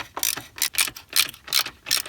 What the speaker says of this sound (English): We will grab that same socket and ratchet and we will remove those.